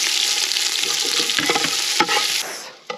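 Onion sizzling hard in hot oil, loud and close, with a dense hiss and a few stirring scrapes, fading away in the final moments with a last clatter.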